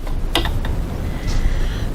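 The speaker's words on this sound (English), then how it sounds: "we're going to go over to the sewing machine and stitch" A domestic sewing machine stitches a 6mm (1/4 inch) seam on fabric for a crossbody bag at normal 2.5 stitch length, giving a steady close mechanical whirring and clicking throughout with no talk.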